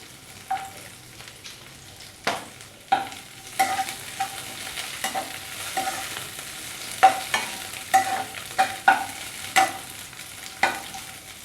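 Paneer pakora pieces with green chillies being stirred and fried in a wok, giving repeated scraping stirs and soft crackles at an irregular rhythm over a low sizzle, close by with no talking.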